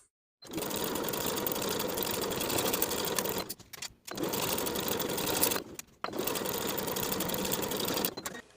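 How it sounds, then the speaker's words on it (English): Sewing machine stitching a 5/8 inch seam joining the facing to the top of linen shorts, three loud, steady close bursts of rapid whirring separated by brief pauses. "Sew the facing and the top of the pant together with a 5/8 inch seam allowance."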